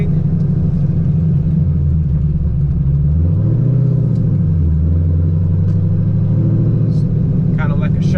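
A cammed C5 Corvette engine rumbles loudly and steadily as the car pulls up to a racing engine shop in Chardon, its low drone dipping and rising briefly midway.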